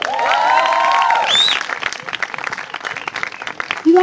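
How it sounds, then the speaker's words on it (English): An audience claps for the poet Ahmed, a light scattered round of applause that fades into sparse claps while a voice and some musical tones sound over the start. "can we give a round of applause for Ahmed?"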